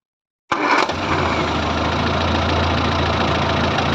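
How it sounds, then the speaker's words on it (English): A Morris Minor engine being tuned with a Gunson Colour Tune cranks into life abruptly after half a second of silence. It then settles into a loud, steady idle with a rough, even rumble that holds to the end. "So we're going to get the engine going and set the mixture. So we're going to start the engine."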